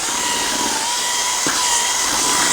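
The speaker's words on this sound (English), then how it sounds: "After you put water in, you want your drill in forward, because it'll fling it all over you if you don't." A power drill whirs steadily and loudly as it mixes sugar and water into a paste for bee sugar cakes, a constant high motor whine with a slight knock midway.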